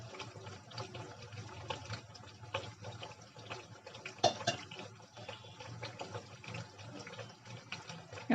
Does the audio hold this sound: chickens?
no